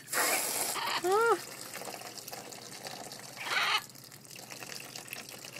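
Water from a tap runs and gushes into a pool in uneven bursts, loud at first, then easing off. Quieter splashing and a brief vocal sound come in between the bursts.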